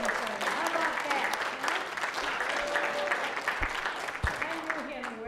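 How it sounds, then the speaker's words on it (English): Audience applause at a New York State Broadcasting Hall of Fame ceremony, a continuous crowd clapping that carries on under a voice speaking and some cheering, fairly distant and moderate in level. "standing up and applauding for you"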